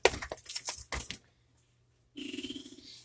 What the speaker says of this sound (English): you want to make sure that you're mixing it in and smashing it as you mix it in